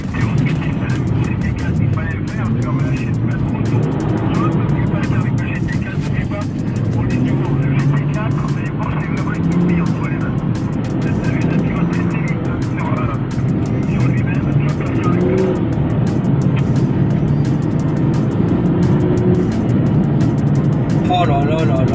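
A BMW M2 drifts on a track, its engine droning loud and constant with tyre and wind noise throughout, while people talk excitedly over it from inside the car.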